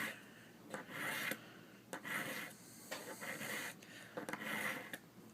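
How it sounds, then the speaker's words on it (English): A few rasping strokes as a cheap steel knife blade is drawn through the carbide slot of a Smith's Pocket Pal sharpener. Each pull is a gritty scrape lasting about a second, close and fairly quiet, with short gaps between and no talk. "Just a couple pulls through the carbide."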